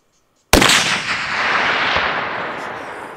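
A single loud rifle shot from a .300 PRC on a fallow deer hunt in Australia, a sharp crack after silence followed by a long rolling echo that fades slowly across open country.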